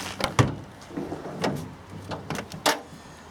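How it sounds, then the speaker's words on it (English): A door on a Ford Transit MK5 van is opened, producing a handful of close clicks, knocks and rattles of the latch and panel spread over a few seconds, fairly faint against a quiet background. "So if we open the door,"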